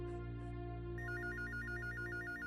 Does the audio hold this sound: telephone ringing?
yes